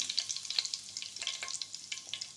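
Mustard seeds and curry leaves hitting hot oil, producing a rapid string of bright crackling pops and spits close up over a soft bubbling hiss.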